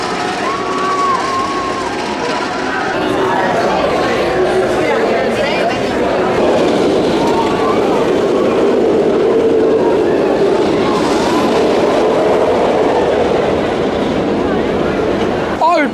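Loud, continuous rumble of the Wonder Woman Flight of Courage RMC roller coaster at Six Flags Magic Mountain running on its track, a steady rolling roar with clattering and rider voices mixed in throughout.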